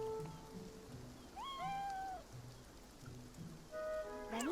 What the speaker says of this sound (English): Oh, we have many cats going on.